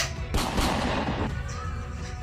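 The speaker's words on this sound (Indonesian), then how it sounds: "Cakra Birawa sudah lebih cepat meletakkan pelurunya, terhitung 2 hingga 3 peluru bersarang" Gunshots ring out in a dramatized reenactment of General Ahmad Yani's shooting by Cakrabirawa troops, a loud burst of two or three close, sharp reports with echoing tails.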